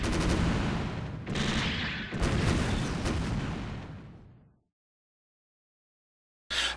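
Homing missiles launching in SD Gundam Online, a loud dense volley of whooshing rocket fire and blasts in two or three overlapping bursts that fade out into silence before a brief final blast.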